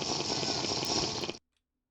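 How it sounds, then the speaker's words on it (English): Water is placed in Minecraft, a short rushing, bubbling pour of liquid that holds steady for over a second and then cuts off abruptly into silence. "Place the water again"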